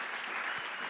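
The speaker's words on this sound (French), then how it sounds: "On l'applaudit bien fort" A brief burst of dense audience clapping for a cosplay performer at an anime convention, steady and fairly loud throughout.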